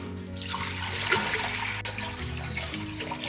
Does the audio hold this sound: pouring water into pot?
yes